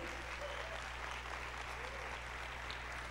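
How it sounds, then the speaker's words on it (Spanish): Church congregation applauding in praise during a sermon, a steady dense wash of clapping held at an even level throughout, with faint voices mixed underneath. "¿Por qué no le damos un aplauso al Señor?"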